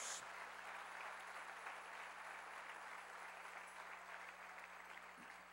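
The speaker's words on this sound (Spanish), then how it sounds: "Démosle palmas fuertes al Señor." Steady, dense applause from a church congregation, sustained at an even level throughout with no pauses.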